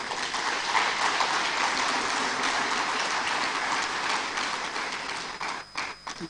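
Sustained round of applause at a business environment council town hall in Abuja, a dense, steady clapping wash that tapers into scattered claps at the end.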